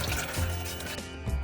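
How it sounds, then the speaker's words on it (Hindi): Water poured into a pot to boil noodles for Kolkata-style chicken chow mein, a close, continuous splashing fill with gurgling bubbles, brief and fairly loud. "नूडल्स बॉईल करने के लिए 4 कप पानी ले रही हूँ।"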